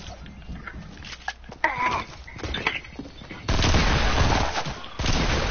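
Shots from a shooting video game crack in scattered single bursts, then a denser stretch of rapid gunfire takes over, loud and close, with voices heard in the mix.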